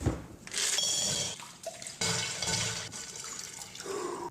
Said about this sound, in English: dunks his face in water